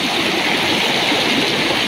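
Fresh spring water flows at the foot of Mayon Volcano, a steady, close rushing and bubbling with no break and no voices.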